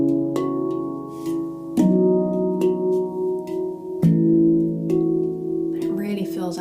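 Deep bass notes from the extension tones of a handpan ring out beneath a sustained melodic handpan pattern, with soft strikes every second or two and long overlapping resonance, played close and clear.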